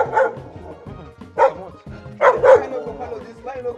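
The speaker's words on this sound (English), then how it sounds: "Throughout the interview, Geoffrey's dog refused to let up" A dog barks insistently in short separate bursts, loud and close, several yaps spread across the moment with quieter gaps between.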